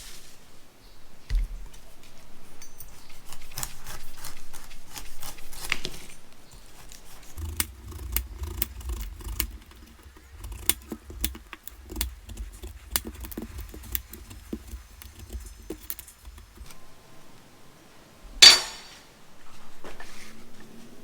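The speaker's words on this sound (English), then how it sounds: "let's go ahead and cut this like you would normally do, basically slicing pieces off the side, and then we'll core it" A knife slicing the sides off a pineapple and coring it, with a run of close, crisp cutting and scraping strokes and soft thuds against the board, broken by short pauses and one louder knock near the end.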